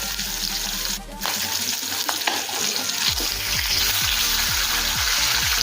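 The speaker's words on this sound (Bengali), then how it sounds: "দেখুন ঠিক এইভাবে মাছের পিসগুলো আমি ভেজে নেব।" Fish pieces shallow-frying in hot oil in a kadai, a continuous close crackle and sizzle under background music, no talk.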